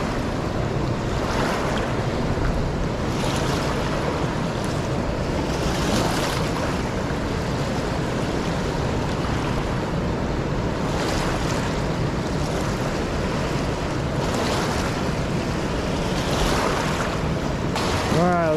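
A raging river current rushes steadily around a wading angler, making a loud, unbroken roar of water with wind buffeting the microphone.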